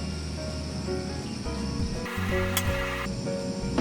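Steady bubbling and hissing of water at a rolling boil in a pot, continuous and close, with a brief sharper sizzling burst partway through.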